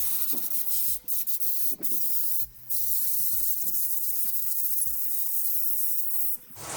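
Aerosol cleaning product sprayed onto a pump in a series of close hissing bursts with brief gaps between them, against a quiet background.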